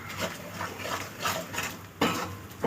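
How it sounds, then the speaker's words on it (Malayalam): Turmeric is stirred into ambazhanga pickle in a pan, with repeated scraping and clinking strokes of a spoon against the metal over a faint sizzle, the strongest knock near the end. "നന്നായിട്ട് ഇളക്കി കൊടുക്കണം"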